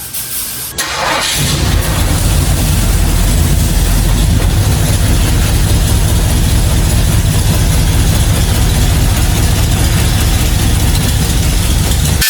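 A car engine cranks and fires up, then settles into a loud, steady rumbling idle with heavy low exhaust drone that continues without voices.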